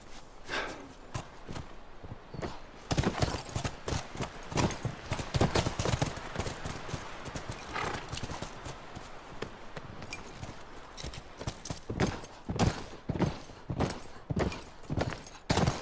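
Horse hooves clip-clopping in The Last of Us Remastered, several horses walking in a steady uneven rhythm of hard strikes, fairly close, with an occasional faint snort and sparse talk.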